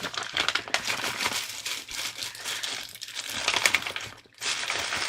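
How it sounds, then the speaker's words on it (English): Crinkly rustling of crumpled plastic or paper, close and continuous, with brief pauses. "Crinkly rustling."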